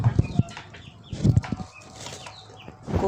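Pigeons flap their wings on a small farm that also keeps local chickens, giving a few quick close bursts of fluttering spread among quieter rustling and faint background noise.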